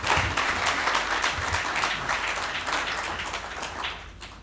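A conference audience at an official forum opening in Victoria Falls, Zimbabwe, breaks into sustained applause, a dense wash of clapping that holds steady and then tapers slightly toward the end.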